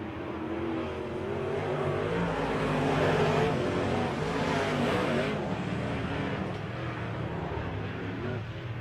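Race cars circle at Lake of the Woods Speedway during a season opener, a continuous loud engine roar swelling and fading as cars pass, with crowd noise blended underneath.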